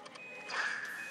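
Electronic beeping in the Monster Strike mobile game: a steady, high, insistent beep tone that rises in level midway, over soft game background sounds.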